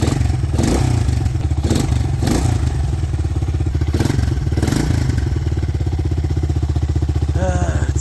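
A 1985 TriMoto 225DX three-wheeler with a smoky, choked engine idles close by in a steady loud putter, with several sharp throttle blips rising and falling in its first half.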